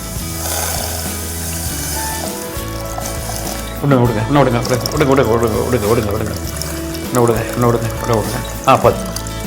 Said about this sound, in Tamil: தண்ணி விடுங்க.